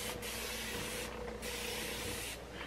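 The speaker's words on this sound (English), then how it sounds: "I'm just going to go ahead and take just some water in my Sally Beauty water bottle" Water spritzed from a Sally Beauty 360 spray bottle onto a deep wave human hair lace front wig, heard as a steady, close hissing mist with a few brief pauses between bursts.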